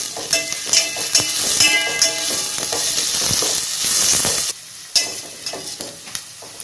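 Onions sautéing in oil in a pan for egg biryani, a loud, steady sizzle with a spoon stirring and scraping throughout, then a sudden drop to a quieter crackle near the end.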